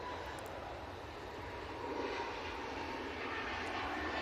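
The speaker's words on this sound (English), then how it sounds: "That is an EasyJet off to Amsterdam." An EasyJet airliner departs for Amsterdam from Manchester Airport, a steady, distant engine roar that swells slightly as it continues.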